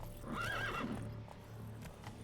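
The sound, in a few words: horse neighing and galloping, The Witcher 3 video game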